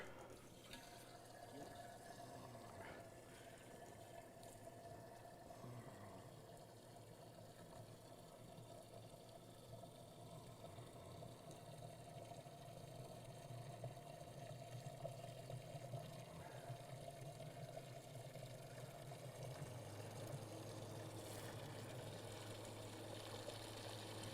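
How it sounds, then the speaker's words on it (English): Water pouring into a B12 ice machine while making mint water ice, a steady faint trickling fill that runs continuously over a low motor-like hum, growing slightly louder toward the end. "Okay, I'll go ahead and fill up with water."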